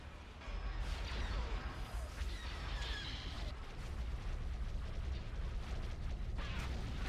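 A space battle rages in Star Wars: Empire at War (Republic Hardliners) at Malastare as a frigate is destroyed, with loud, continuous rumbling explosions and bursts that run almost without a break.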